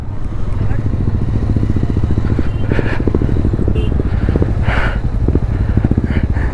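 Motorcycles ride slowly through a long traffic jam on the road from Lachen toward Gurudongmar Lake, a close, loud, steady engine rumble that carries on throughout while people talk over it.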